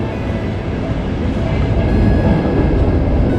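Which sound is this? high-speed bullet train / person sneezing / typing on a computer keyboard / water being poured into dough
high-speed bullet train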